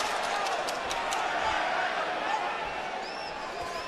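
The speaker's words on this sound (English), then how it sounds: "the crowd is so loud" Roaring arena crowd at a middleweight boxing bout in New York City, Ryan Garcia against Braulio Rodriguez, a dense continuous wash of cheering under a commentator's voice.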